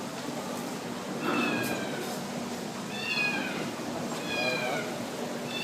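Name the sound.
stranded cat meowing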